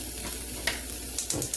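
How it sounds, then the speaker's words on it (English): Mexican pork chorizo warms in a pan, crackling with a quiet, steady sizzle and a few soft stirring scrapes, with no voices. "we're going to warm this breakfast sausage"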